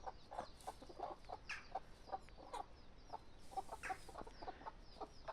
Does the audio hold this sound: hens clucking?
yes